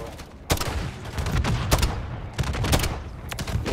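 Call of Duty MW3 gunfire during a Shipment-style mass event: loud, close automatic bursts crack out in several sharp volleys over a constant din of battle.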